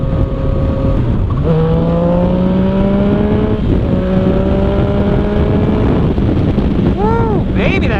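A Yamaha FZ-09 street bike with an Arrow exhaust and the dB killer removed revs loudly up through the gears, its engine note climbing and dropping with each shift, with wind buffeting the microphone and a brief burst of talk.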